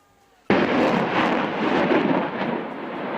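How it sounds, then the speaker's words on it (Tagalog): A HIMARS rocket launcher firing during a live-fire exercise at a fire base in Nueva Ecija, a sudden loud blast that rolls into a sustained heavy rumble, heard without talk. "Dagundong yan mula sa pinaputok na High Mobility Artillery Rocket System o HIMARS ng"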